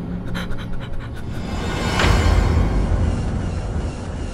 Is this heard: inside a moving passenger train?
no